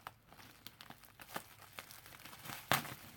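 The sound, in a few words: handling crinkling bubble wrap from mail package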